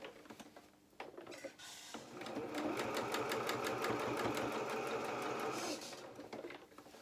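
A sewing machine stitching the lining of a doll's cap runs in a steady rapid mechanical chatter for several seconds, starting and stopping with handling noises, close and fairly loud.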